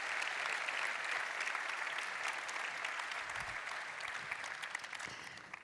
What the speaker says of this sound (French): Et elle vous quitte sous vos applaudissements, s'il vous plaît.